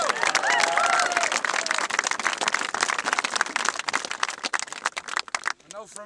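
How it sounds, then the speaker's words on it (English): Loud crowd applause with some cheering at a community awards event for Kevin Ty and Helen Murphy, dense clapping throughout, a brief voice near the start and talk emerging as it tapers at the end. "Kevin Ty and Helen Murphy. Round of applause."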